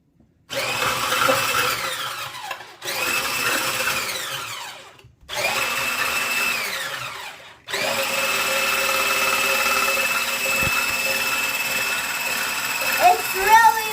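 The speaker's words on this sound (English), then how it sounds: "So now I got the mixer." An electric mixer mixing pancake batter, loud, close whirring bursts that start and stop three times before one longer continuous run, with pitch shifting as the load changes.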